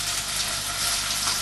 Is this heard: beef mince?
yes